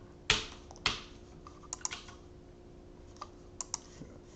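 A computer mouse gives a few sharp, quiet clicks in an indoor setting. Two firmer clicks come first, then lighter scattered taps.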